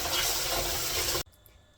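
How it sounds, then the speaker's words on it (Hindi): Cold tap water runs and splashes over rice being washed, a steady close rush that cuts off sharply partway, leaving quiet room tone. "ठंडे पानी से हमने वॉश करने हैं चावल"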